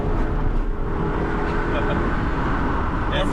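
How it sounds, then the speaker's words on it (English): A Ford Thunderbird touring car accelerating onto a highway, a loud, steady engine drone and road rumble from inside the cabin, with someone talking over it. "Entering the highway, and that was the laziest downshift ever, but now that we're in it, here we go."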